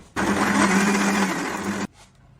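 A kitchen blender whirs loudly through onion and water for a glaze, starting abruptly, holding a steady high-pitched motor whine for under two seconds, then cutting off sharply.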